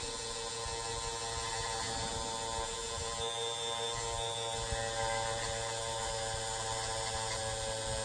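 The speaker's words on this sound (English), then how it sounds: "I just got a felt tip on here, and what we want to do, just kind of get in here under these areas and start polishing." A rotary tool fitted with a felt polishing tip works over Glock 17 trigger parts on a Polymer 80 build, giving a steady, even motor whine that holds without pause at close range.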